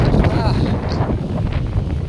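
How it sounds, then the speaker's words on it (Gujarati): Strong wind gusts across a hillside near the Sana hill caves, roaring and buffeting close against the microphone. People talk under the wind. "કેવો મસ્ત પવન આવે"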